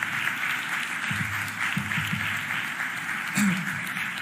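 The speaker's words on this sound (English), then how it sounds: "Please give Lower South and its potential a huge round of applause" An audience at the Philadelphia mayor's budget address applauds for the Lower South district, a moderate, continuous patter of clapping heard from some distance with a faint low murmur beneath.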